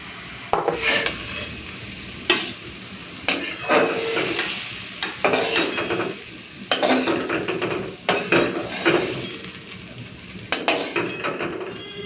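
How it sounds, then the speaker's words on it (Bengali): Metal utensil scraping and stirring red amaranth greens frying in a pan in repeated bursts, with clinks and a sizzling rasp between strokes. "এদিকে শাক ভাজাটাও হয়ে এলো"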